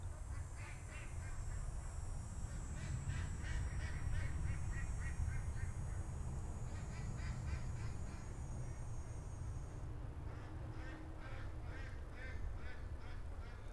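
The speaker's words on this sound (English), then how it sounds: "all the ducks have gone back out" Ducks quack in a loose chorus of repeated calls, fairly distant and faint against a steady outdoor background, with a brief honk mixed in and no speech.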